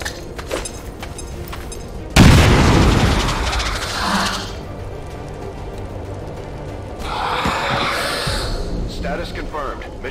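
Bombs bursting in a video game, a heavy sudden blast followed by a rumbling decay, then a second rolling explosion a few seconds later, with game voices around it.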